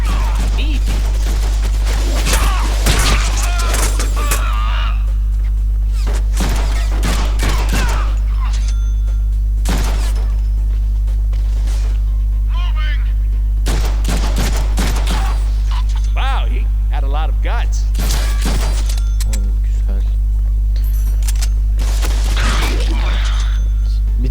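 Rapid bursts of bullets fire in a Deadpool action game, sharp repeated volleys separated by short pauses over a constant low hum, loud and close.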